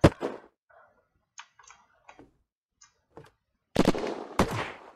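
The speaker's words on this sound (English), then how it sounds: "The guy's shooting someone." Gunfire in a shooter video game arena match, a sharp loud shot at the start, then sparse faint ticks and pops, and two heavy bursts of rapid fire near the end.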